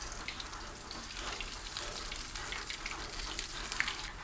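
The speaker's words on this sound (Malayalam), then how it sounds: "ഇനി നമ്മൾക്കിത് വറുത്തെടുക്കാം. വെളിച്ചെണ്ണ ഇവിടെ നല്ലോണം ചൂടായിട്ടുണ്ട്." Ration-rice egg balls deep-fry in hot coconut oil, giving a faint, even, continuous sizzle with light bubbling and no talk.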